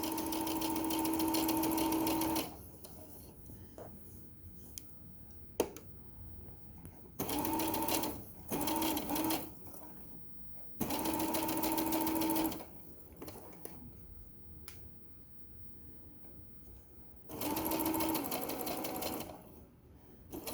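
A sewing machine stitching through four thick fabric layers of a tote bag runs in four separate bursts of a few seconds each, whirring steadily, with quieter pauses and light handling noises between runs.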